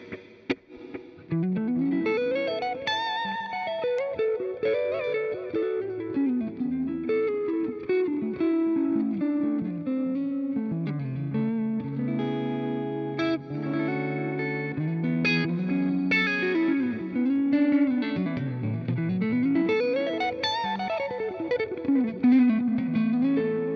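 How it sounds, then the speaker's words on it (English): Electric guitar through a Line 6 Helix with glitz reverb, pre-delay and delay, sliding chords and notes blooming and trailing off, played alone at steady volume. "when that glitz reverb is on, I have a pre-delay"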